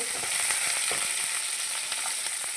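Urad dal, curry leaves and two green chillies tempering in hot oil with cumin, giving a steady bright sizzle with scattered small pops and crackles throughout, close and fairly loud, no talking.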